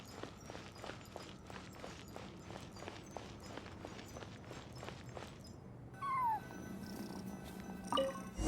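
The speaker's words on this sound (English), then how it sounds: "I followed the cat's cries to find my way out" A cat cries inside the Genshin Impact video game, a rhythmic run of short, faint calls repeated about twice a second over a steady ambient hum, followed by a brief rising chirp and some rustling, with no talking.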